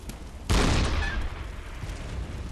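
A single loud cannon blast in Bloodborne, a heavy boom with a sharp onset that rolls off into a long, rumbling tail.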